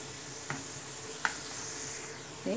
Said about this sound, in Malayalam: ഫസ്റ്റ് നമ്മൾ കാഷ്യൂനട്ടും കിസ്മിസും ഒന്ന് വറുത്തെടുക്കുന്നത്